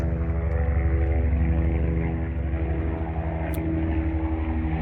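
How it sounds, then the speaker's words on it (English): An airplane drones steadily overhead in a garden with citrus trees, a loud, continuous engine rumble that holds throughout with no break. "I'm sorry that the airplane is on the sky now, and I hope that you can hear me."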